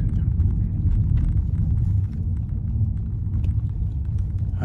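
Kei car approaching on a road, a low steady rumble of engine and tyres that stays fairly loud and close throughout, with faint irregular clicks above it and no clear talk.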